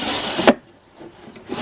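A thin wooden panel, 3/16 inch thick, slides into a 1/4-inch slot in a homemade cat scratcher ramp: a close, dry wooden scrape ends in a soft knock, then quiet handling noises.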